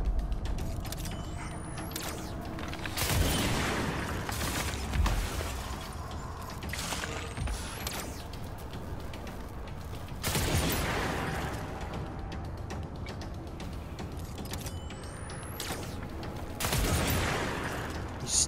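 Gunfire from enemies in the video game Control, with repeated bursts of shots and mechanical clatter in the mid distance amid a busy game soundscape, no talking.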